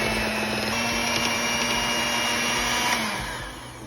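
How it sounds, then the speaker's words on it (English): A hand mixer beating chocolate cake batter with sour cream and chocolate chips, a loud continuous motor whine with a slight strain in pitch, steady close up before winding down at the end, with no talking. "I'm using my hand mixer instead of my big stand mixer just because I want to make sure everything is getting all incorporated"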